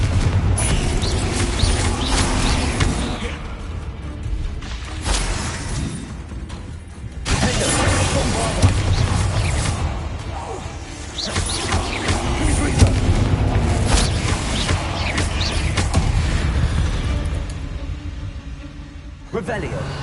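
Confringo and Bombarda spell explosions in the Hogwarts Legacy video game, repeated heavy booms and crashing blasts in chaotic combat, with a voice shouting spell names throughout.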